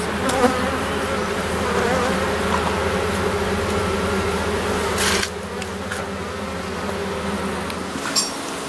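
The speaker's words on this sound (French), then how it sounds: "Donc là, ce sont les abeilles de la nouvelle reine." Black honey bees buzzing at an open hive, a dense, steady close hum of many insects that drops a little in level partway through, with faint handling noises and no talking.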